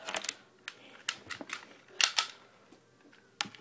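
Plastic packaging crinkles and snaps as six-button game controllers are unwrapped up close, a series of sharp, irregular rustling bursts separated by short pauses.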